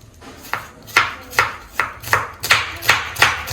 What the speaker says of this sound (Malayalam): ഇനി സവാള അരിയണം